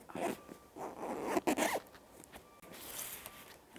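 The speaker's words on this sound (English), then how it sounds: "zip it up" A zipper is run shut along a handmade fabric kneeling cushion, with quick rasping bursts over a few seconds, close and moderately quiet, with no talking.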